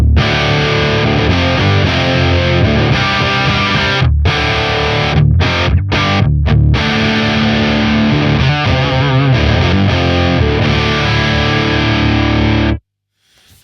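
Heavily distorted high-gain electric guitar played through a Revv D20 amplifier on a higher-gain cabinet IR preset, loud and continuous with chugging palm-muted riffs and brief stops, ending abruptly in silence.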